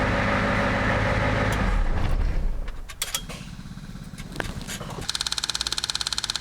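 A Ford 7.3 diesel engine is cranked and fires up, a heavy rumbling start that drops back into a steady, rhythmic idle knock near the microphone, with no one talking.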